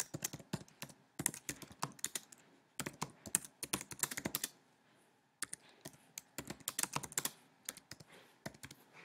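Rapid bursts of typing on a computer keyboard, crisp close key clicks in uneven flurries separated by brief pauses, with a short silent gap midway and no voices.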